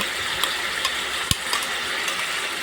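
Spice paste goes into meat frying in a pan for a Bengali kosha mangsho, giving a steady close sizzle with a few sharp stirring clicks and one louder scrape against the pan, no talking.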